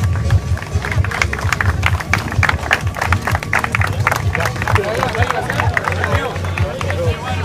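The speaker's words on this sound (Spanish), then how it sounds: "Aplauso para los competidores." Crowd clapping and cheering for competitors at a motorcycle race awards ceremony in Tocopilla, Chile, a steady dense patter of applause with background crowd noise throughout.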